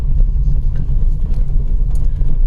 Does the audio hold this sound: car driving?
yes